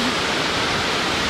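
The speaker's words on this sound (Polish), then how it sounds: "I ten szum wody." Water rushes steadily as a broad, constant noise at a beach near Międzyzdroje, close and loud with no breaks.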